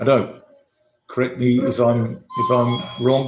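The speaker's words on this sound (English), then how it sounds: "I just have to answer the doorbell" A doorbell chimes once indoors, a clean electronic ding-dong that sounds behind someone talking and holds a steady ring for about a second.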